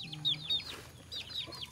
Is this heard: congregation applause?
no